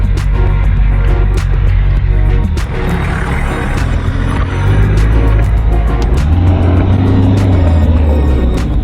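A Żuk van drives during a driving lesson with a loud, continuous engine drone heard from inside. The pitch rises and falls as the engine revs change, along with occasional rattles and knocks.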